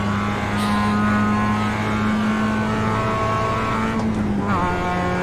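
Race car engine in the iRacing sim, a steady loud high-pitched drone held throughout, with a gear shift or pitch drop near the end.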